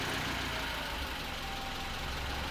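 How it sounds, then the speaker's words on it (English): A car engine idles low and rough with headlights switched on and RPM dropping below normal, likely from a clogged or bad idle air control valve; a steady, faint, close rumble runs alone without talk. "So I turn my headlights on and the RPMs just dropped below 500 right there, and now it's still idling well below where it should be idling at."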